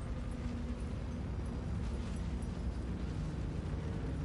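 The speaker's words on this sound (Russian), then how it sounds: "Lava is erupting." Lava erupting in Baldur's Gate 3 makes a continuous dense rumbling roar, steady and moderately loud throughout, without voices.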